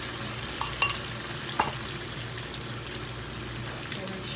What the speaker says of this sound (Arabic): طول ما انتم شايفين الزيت سخن، هنزل فيه بالكبده